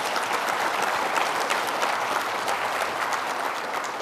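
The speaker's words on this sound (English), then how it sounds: "Jenny, Deborah, Greg Palmer, Aaron Hujar, let's give them an applause in advance for the good work that we know that they've" A conference audience gives sustained applause, a steady wash of many hands clapping at moderate loudness that continues evenly throughout.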